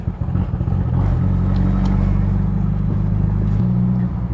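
A 2015 BMW 228i fitted with a UniClutch cruising in third gear, its engine a steady close low drone with a slight rise in pitch partway through, running continuously with no talk.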